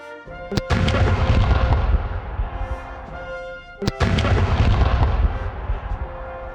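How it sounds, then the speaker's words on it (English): The Virginia Tech cannon Skipper fires salute rounds outdoors: two loud, sharp booms about three seconds apart, each followed by a long rumbling echo that fades away. "The testing of Skipper and the first firing of Skipper will be in the salute of the death of John F. Kennedy, 50 rounds."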